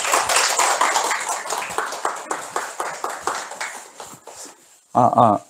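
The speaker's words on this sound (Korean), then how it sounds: "박수도 좀 부탁드립니다." An audience at a real estate and architecture lecture claps for an incoming speaker, a dense patter of hands that gradually thins out, followed by a brief louder burst at the end.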